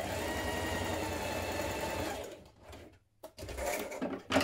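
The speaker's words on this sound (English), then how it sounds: "we're going to stitch across this bottom here" A sewing machine runs steadily, stitching across the bottom of a knit cardigan, its fast even whir continuing for about two seconds before stopping, followed by a few faint handling noises up close.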